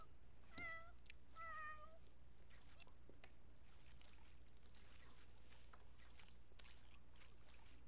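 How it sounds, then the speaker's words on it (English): Cats meowing in the Sims 4 video game, two short clear meows close together near the start, then quieter clicks and faint game sounds over a low steady hum. "So many cats in here."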